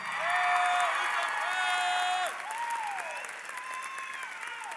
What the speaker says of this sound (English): Let's give these scholars one more big round of applause.